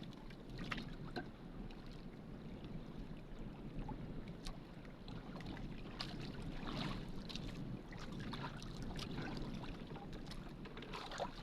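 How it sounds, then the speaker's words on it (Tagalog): Strong wind buffeting the microphone outdoors while fishing with a net, a continuous rough rumble with gusty bursts, no speech. "napakalakas ah, ng hangin"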